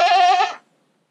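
A goat on a small farmstead gives one loud, close bleat, a strained wavering cry lasting about half a second before it cuts to silence.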